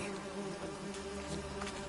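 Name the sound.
wasps and bees buzzing in The Witcher 3 video game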